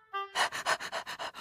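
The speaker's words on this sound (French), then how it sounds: "C'est alors qu'un chien de berger vint à sa rencontre." A sheepdog panting close by, a quick steady run of about six breathy pants after a brief tonal sound at the start.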